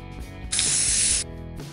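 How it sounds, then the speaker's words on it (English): A single steady hiss of white aerosol spray paint coating a lotion pot lasts under a second, close and clear, over a quiet background. "Coat old face lotion pots with white spray paint."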